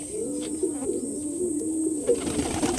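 Pigeons kept inside a loft coo in soft, warbling rounds, several overlapping throaty calls heard close and clear over a faint steady hiss, with an occasional light rustle.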